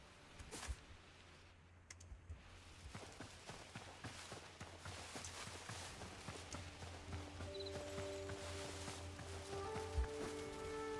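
Horse hooves clip-clopping as the animal walks through the Hytale video game world, a steady rhythm of soft thuds under continuous game ambience with faint tones and some keyboard tapping.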